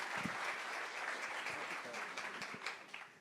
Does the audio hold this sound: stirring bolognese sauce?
no